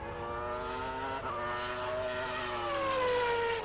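A 1990 Formula 1 car on a qualifying lap at the British Grand Prix, its high-pitched engine howling steadily and close, with a brief dip at an upshift before the pitch climbs and then sweeps downward.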